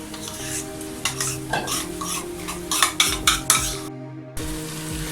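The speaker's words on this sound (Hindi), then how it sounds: "अब मैं इसके अंदर जो दही वाला पेस्ट जिसमें सारे मसाले ऐड किए थे वो वाला इसमें डालती हूँ" A yogurt and spice paste stirred into a sizzling onion-tomato paste for chicken do pyaza, with soft frying sizzle under repeated scraping and knocking of a spoon against the pan, close and moderate in level.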